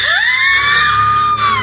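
A single long, piercing scream rises sharply and holds for over a second as a loud, bright wail in a horror story, heard alone without speech.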